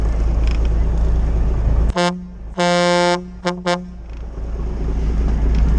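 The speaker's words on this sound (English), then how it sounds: "The horn on this truck is killer loud and it sounds awesome." The loud air horn on a Kenworth truck blasts three times, one short toot, then a longer sustained honk and two quick short ones, close and piercing over a low idling engine rumble.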